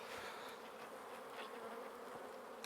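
Honey bees buzzing over a brood frame lifted from a hive during a double brood split, a dense, steady hum filling the whole stretch with no voices.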